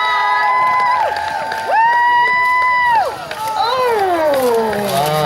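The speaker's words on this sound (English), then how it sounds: "let's give a round of applause for Sir James and cheer him on" An audience at a sword tournament cheers for Sir James: loud, drawn-out whooping voices rise and glide over a steady bed of crowd noise.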